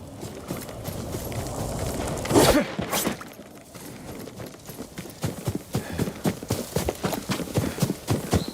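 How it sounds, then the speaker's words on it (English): Horse hooves clip-clopping in Ghost of Tsushima, a samurai video game: rapid, irregular thuds, with a brief crash near the middle, then a steadier trotting rhythm, close and clear with no speech. "Yuriko's horse."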